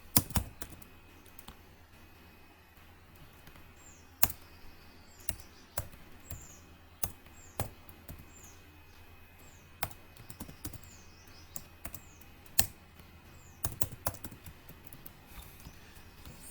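Code being typed on a computer keyboard: scattered, irregular key clicks and taps over a quiet room hum, close and fairly soft, with no talking.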